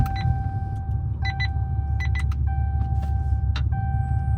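The Cummins diesel in a 5th-gen Ram Longhorn pickup rumbles at low idle, heard from inside the cab as a steady deep hum beneath a constant tone and scattered short beeps and clicks.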